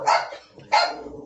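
A dog barks twice in loud, close bursts as a mailman passes by outside, with a brief lull between the two barks and no talking over them.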